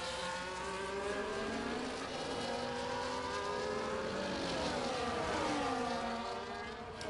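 Race cars in a racing video game running close together in Las Vegas and overtaking with DRS, a continuous loud engine drone with several pitch lines rising and falling as the cars pass, and no voices.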